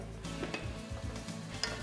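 Chopped fresh vegetables and corn sauté in a soup pot, giving a soft, close sizzle with light stirring scrapes and clinks.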